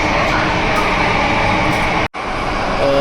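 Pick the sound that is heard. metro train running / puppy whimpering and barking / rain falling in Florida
metro train running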